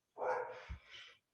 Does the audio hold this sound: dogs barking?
yes